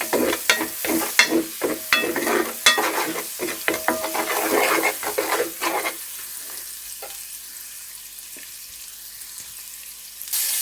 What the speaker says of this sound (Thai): ทีนี้ก็ผัดให้มันหอมนะคะ